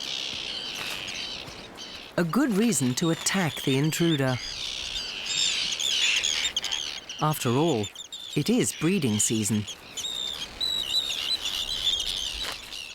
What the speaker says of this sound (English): The parent birds feed their chicks incessantly with fish.